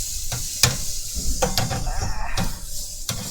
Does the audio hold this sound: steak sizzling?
yes